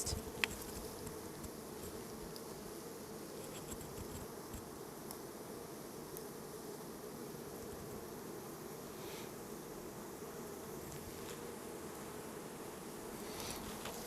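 Honey bees buzzing around the hives of an apiary during the main nectar flow, a dense, steady drone that fills the whole stretch, with occasional single bees passing close to the listener and no talking.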